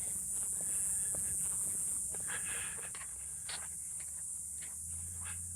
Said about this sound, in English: you can really hear the cicadas going